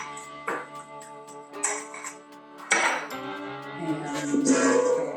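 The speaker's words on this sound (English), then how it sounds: "Just give it a bit of a mix. Pick up any lumps of sugar." Spoon clinking against a bowl while dry pie ingredients and sugar are stirred together for pumpkin pie, with a few sharp taps and scraping strokes spread across several seconds, close and moderately loud.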